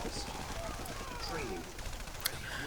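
Rapid gunfire crackles on and off in a Command and Conquer Red Alert Remastered battle as units attack an ore refinery, mixed with other game effects and a talking voice.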